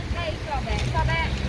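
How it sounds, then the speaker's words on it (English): Gusty wind buffets the microphone with a steady low rumble in Tagaytay, near Taal Volcano, while people talk faintly in the background. "Really windy up here"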